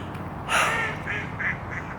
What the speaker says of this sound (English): there are so many ducks and geese just doing their thing